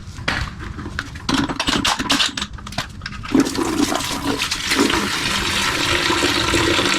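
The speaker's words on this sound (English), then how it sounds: "I'm going to remove this coolant plug on the side of the block just to get any remaining fluid" Coolant drains from a plug in the side of a BMW engine block, splashing and pouring in a loud gush that settles into a steady, rushing flow.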